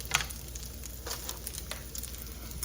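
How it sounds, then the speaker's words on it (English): Already-cooked pork pieces browning in a pan, a quiet steady sizzle with faint crackles and pops, soft and close with no talking. "I'm just kind of giving them a little bit of a browning"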